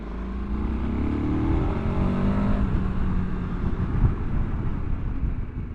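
A 2024 KTM 1290 Super Adventure R engine drones loudly while riding on pavement, a steady close rumble with rising and falling pitch under heavy wind rush.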